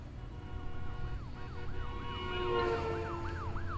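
Police sirens wail in the video game Trauma Center: New Blood, rising and falling in a repeating cycle over a low rumbling background, moderately distant and steady with no talking.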